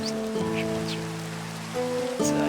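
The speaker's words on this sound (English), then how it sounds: "it's raining actually in game, not IRL. If we get over here, you can always hear the rain and see it." Rain falling in the Minecraft video game, a steady even hiss of in-game rainfall running throughout, with tonal game music notes layered above it.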